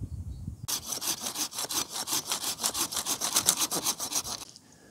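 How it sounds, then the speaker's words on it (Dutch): A hand saw cuts through shrub branches with quick, steady back-and-forth strokes, a rasping rhythm of about twenty close, clear strokes that starts abruptly and stops near the end. "Met deze zaag kunnen we er makkelijk tussendoor komen."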